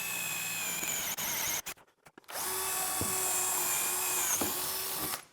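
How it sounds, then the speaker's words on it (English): A power drill with a Forstner bit countersinks bolt holes in plywood, a steady high whining spin close up with a brief stop and restart, then a longer sustained run. "I'm going to countersink just enough for these bolts to go through."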